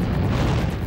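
A bomb goes off in a blast test, a loud, sustained low rumbling boom filling the whole short moment with no voices.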